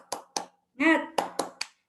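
A rhythmic clap-chant at the start of a talk on early childhood development, with sharp, close claps in a pattern of two, then a chanted shout, then three more claps.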